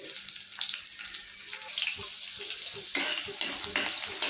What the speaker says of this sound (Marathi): तेल गरम झालं आहे याच्यातच मी घालणार आहे सर्वप्रथम चिरून घेतलेली मिरची